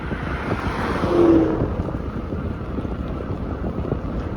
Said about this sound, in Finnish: Vähän tuulee.